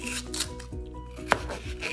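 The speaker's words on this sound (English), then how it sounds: "Time to cut the celery." A knife slices through crisp celery stalks on a cutting board for fried rice, making a few close, crunchy cuts in quick succession.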